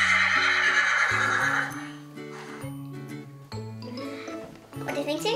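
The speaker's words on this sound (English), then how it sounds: "here's the real life sound of a horse." A real horse neighs loudly and close, a long shrill whinny that trails off into shorter snorting calls.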